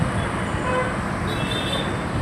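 Jammed road traffic in front of Lokseva Hotel in Mohol, a continuous dense roar of engines with a faint, thin horn toot rising briefly in the middle.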